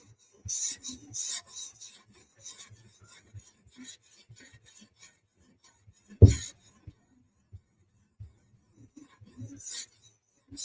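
A ZT 0640 knife gets passed over a stone on a TSProf Kadet sharpener, giving soft rasping strokes in irregular bursts, with one louder knock partway through.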